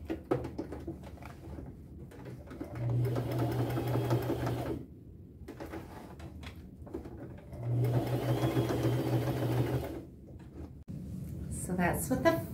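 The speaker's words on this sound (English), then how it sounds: "I will just use a fairly small straight stitch and stay around the edge." A sewing machine runs a small straight stitch around the edge of an appliqué patch on upcycled overalls, using gold thread; two steady motor bursts of a few seconds each, close and moderately loud, with quiet handling between.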